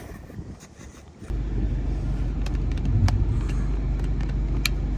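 A car drives through a residential neighborhood in Eden Prairie in late autumn, steady low road and engine rumble that starts after a quiet moment and carries on evenly with faint ticks and clicks, no voices.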